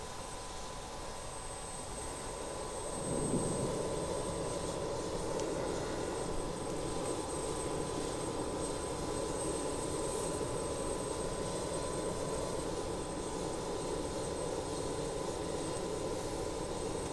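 Airliner jet engines spooling up for a rolling takeoff in Microsoft Flight Simulator, a steady whine and broadband roar building after a few seconds then holding constant and fairly loud throughout.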